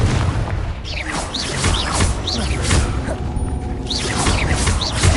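Confringo fire spell blasts in Hogwarts Legacy, a run of repeated booming impacts with whooshing streaks over a continuous loud rumble of combat, with faint voices underneath.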